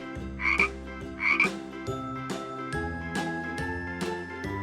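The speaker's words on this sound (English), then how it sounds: "F is for frog." Two quick frog croaks ring out over bright, tinkling music with a steady beat, followed by more chiming notes.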